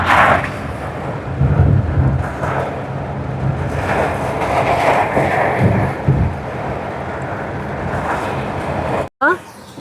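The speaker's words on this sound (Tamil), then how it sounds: "மழை தூருது." Rain falls steadily outdoors during a chicken curry lunch service, a broad hiss with low rumbles running under the whole stretch and occasional voices, ending abruptly.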